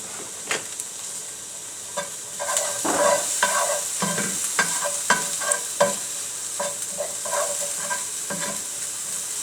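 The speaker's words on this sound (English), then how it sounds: "go ahead with the meat since it's already starting to sizzle a little" Ground turkey sizzling and frying in a pan alongside onions while being stirred, a steady close hiss broken by scraping stirs and louder bursts of crackle.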